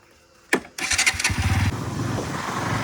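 A new NS motorcycle is started up close by: a brief starter crank is followed by the engine catching with a loud burst, then settling into a steady, throbbing idle.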